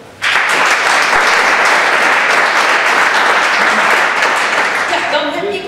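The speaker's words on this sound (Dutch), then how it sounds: "Een groot applaus ervoor" An audience breaks into loud, sustained applause for a newly announced partner, Direct Pay, at an awards election event, a dense, even wash of clapping that holds steady and fades slightly at the end.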